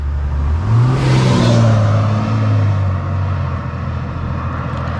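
A big truck towing a trailer passes along a roadside, its low engine roar swelling loudly as it goes by and then fading into steady road noise.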